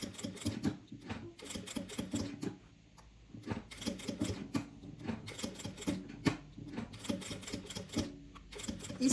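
A home sewing machine stitches fabric for a small purse in quick bursts of rapid mechanical clatter, with short pauses between runs, close and fairly quiet.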